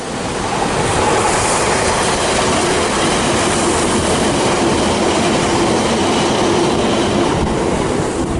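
A train runs along a coastal railway in Devon, England, a steady loud rumble with faint rhythmic clatter of wheels, mixed with broad wash like surf close by, continuous throughout.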